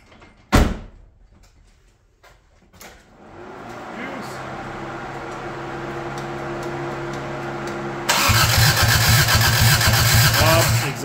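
A 1985 Toyota Tercel engine cranks over with its exhaust unhooked, building oil pressure: a door-like thump, then a steady rising mechanical whir that turns into a louder rhythmic chugging toward the end, close and alone.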